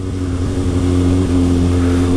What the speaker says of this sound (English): Got this traffic in the tunnel as well.